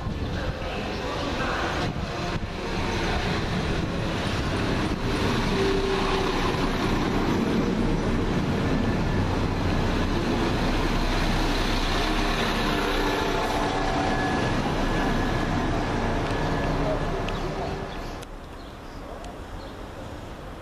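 A London Midland class 172 diesel unit, 172338, working the Leamington Spa to Worcester Shrub Hill service at Birmingham Moor Street station, gives a steady loud engine rumble and rolling noise that lasts about eighteen seconds and then drops away.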